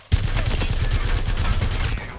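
Rapid automatic gunfire from the video game Apex Legends rattles off in a dense, loud, unbroken burst lasting about two seconds.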